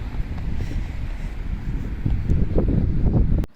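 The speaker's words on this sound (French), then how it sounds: "Il y a du vent" Wind blows outdoors in a small park on a cold day, a loud, continuous buffeting rumble against the microphone that swells and gusts before cutting off abruptly.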